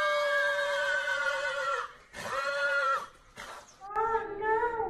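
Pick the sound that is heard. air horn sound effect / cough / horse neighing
horse neighing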